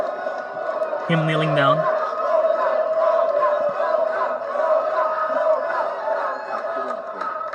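A crowd at a live movie trivia show roars and cheers in a dense, sustained wash of noise while someone speaks briefly over it.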